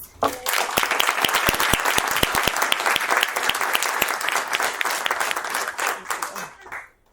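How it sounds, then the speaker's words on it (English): A room full of people at a school board meeting applauds warmly for several seconds, dense clapping that swells and then tapers off. "if we could give them some applause, please"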